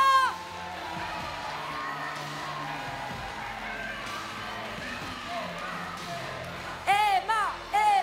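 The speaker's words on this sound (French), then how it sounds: "On l'applaudit fort." Crowd at the closing of the second Jeunes Socialistes congress in Nancy claps and cheers loudly for the outgoing youth president, a steady roar of applause with whoops, and bursts of chanting near the end.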